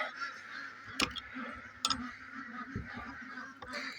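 A morning flock of ducks and chickens let out of their coop honks and quacks in a busy, overlapping chorus, with a few sharp clicks and knocks standing out nearby.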